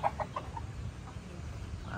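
Gamecock chickens on a mini farm in Calamba, Laguna give faint, scattered clucks at a distance over a low background hum.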